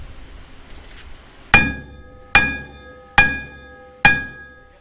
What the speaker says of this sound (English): With a combination of tension from the puller and some shocks with the sledgehammer, the sprocket finally starts to let go.